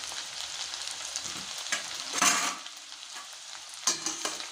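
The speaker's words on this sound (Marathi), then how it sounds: "छान क्रिस्पी ब्राऊन कलरचे होईपर्यंत छान तळून घ्या।" Leftover rice kurkure fry in hot oil with a steady, crackling sizzle and occasional louder pops and stirring scrapes, close and continuous with no talking.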